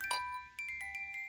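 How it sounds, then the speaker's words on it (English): A few delicate metallic plinks ring out from a small vintage music box decorated with daffodils, like a tiny tuned comb, sparse and quiet, each note lingering briefly. "this little music box with daffodils"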